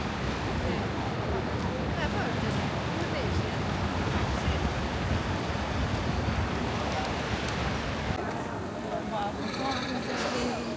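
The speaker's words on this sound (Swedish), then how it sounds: "Kolla vågarna där ute, så fina brytningar det blir." Ocean waves break and wash continuously onto a sandy beach on Gran Canaria, a steady broad roar with some wind buffeting the microphone.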